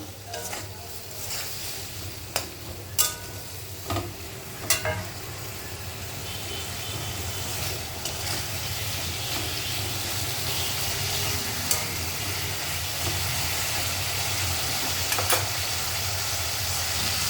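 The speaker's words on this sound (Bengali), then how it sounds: "সব মশলাগুলো দিয়ে ভালো করে কষিয়ে নেবো" Spice paste sizzles steadily in a pan for a katla fish and potato curry, with a continuous frying hiss and occasional sharp clinks and scrapes of a spoon stirring, close and alone.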